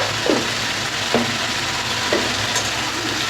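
Sliced bitter gourd fries in hot oil with salt and turmeric, giving a steady close sizzle broken by three or four scraping stirs of a spatula against the pan.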